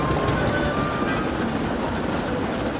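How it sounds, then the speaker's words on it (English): A heavy goods train rumbles and clatters along the rails nearby, loud and continuous. "Gordon's speech was interrupted by a booming whistle in the distance. It grew longer and louder"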